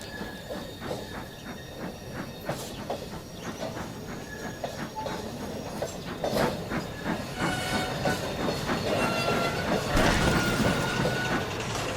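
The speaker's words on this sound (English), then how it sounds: "Donald was shunting nearby" A steam engine shunting in a yard, with hissing steam, rhythmic clanks and clickety-clack of wagons moving close by, growing slightly louder toward the end.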